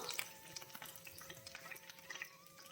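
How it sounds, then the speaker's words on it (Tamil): Belt fish sizzling as it fries in oil with curry leaves: a faint, steady crackle with small popping bursts and a light scrape of stirring, no talk. "இப்போ இது மேலே ஃபிஷ்ஷை போடலாம்"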